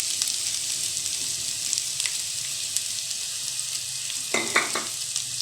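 Carrots and chopped vegetables frying in oil in a pan, a steady close sizzle throughout with a brief burst of louder crackle and stirring near the end.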